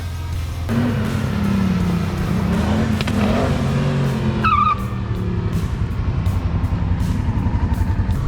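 A Yamaha XJ 600 motorcycle rides along a road on the way to a group ride-out, its engine droning steadily and loudly throughout with a shift in pitch midway, heard alone without talk.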